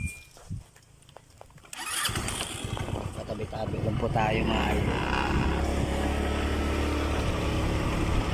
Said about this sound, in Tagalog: Napatayan kasi tayo ng motor, mga idol, no. Inaandar pa po natin